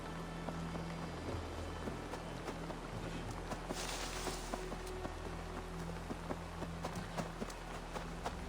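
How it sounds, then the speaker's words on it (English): Steady, soft rain falls in a video game, a continuous fine patter with scattered droplet ticks and faint low background tones, no talking. "For some reason, the rain is always so calming to listen to."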